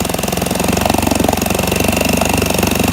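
A 1964 Wards Sea King 3 hp outboard motor, newly repaired, runs at a steady, loud close-up idle with a fast regular knocking chug and no voices.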